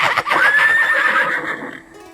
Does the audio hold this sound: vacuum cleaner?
no